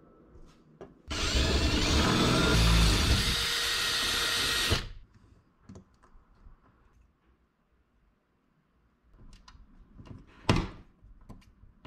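A power drill whines loudly for about four seconds drilling a hole through a car's interior panel into the cab, then stops; afterward come scattered clicks, knocks and handling noises.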